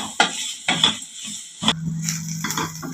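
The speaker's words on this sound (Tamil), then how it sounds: "இந்த வெங்காயத்தை நல்லா வதக்கி விட்டுக்கலாம்." Onions sautéing in a pan for an egg side dish, with several bursts of spoon-on-pan scraping and stirring over a steady close sizzle, no talking.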